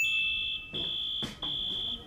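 Fire alarm going off in a film scene: a loud, shrill, high electronic tone sounding in repeated pulses with brief gaps, with faint background noise and no talk.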